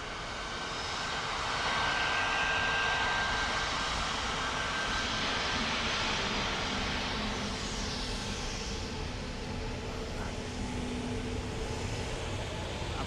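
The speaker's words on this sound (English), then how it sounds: "And then we've got Ryanair in from Brussels." A Ryanair airliner arriving from Brussels at Dublin Airport gives a steady, broad jet roar that swells slightly and then holds at a distance, with no talk over it.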